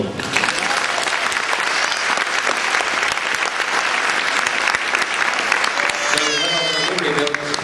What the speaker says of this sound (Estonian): Selle eest aplaus juba.